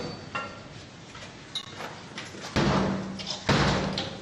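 Police forcing open a layered entrance door during a night raid on a gambling house in Sawah Besar, Central Jakarta: two loud, heavy slamming impacts ring out a second apart after quieter knocks, with faint voices in the background.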